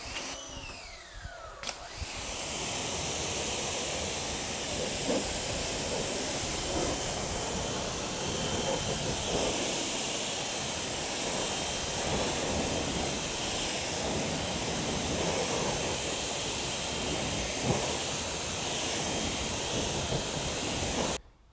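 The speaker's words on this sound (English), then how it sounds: "We're now going to just rinse." A strong water spray rinses ceramic-coated car wheels, a dense, continuous hiss that starts abruptly after a couple of seconds of quiet handling noise and runs steadily to the end.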